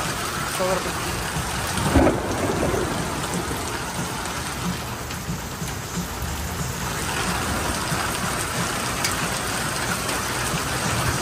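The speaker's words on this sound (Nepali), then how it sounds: "एकदमै आँधी हुरी हेर्नुहोस् ल" Steady, dense thunderstorm rain with strong wind hisses continuously at close range, with a low rumbling wash underneath and no clear break throughout.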